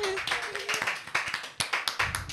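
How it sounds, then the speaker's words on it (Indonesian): A small group claps in a brisk, fairly steady rhythm after being asked to applaud, the claps close and moderately loud with a faint voice trace near the start. "Tepuk tangan dulu."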